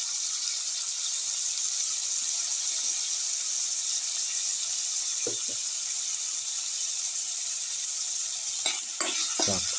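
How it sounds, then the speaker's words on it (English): Tomato paste frying in a pot for a potato tomato rice casserole, a steady bright sizzle with occasional scraping stirs near the end. "Put in the tomato paste"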